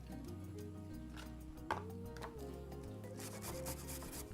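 Carrot being grated on the finest side of a grater, a steady repeated rubbing scrape with rhythmic back-and-forth strokes, close and fairly quiet, with no talking.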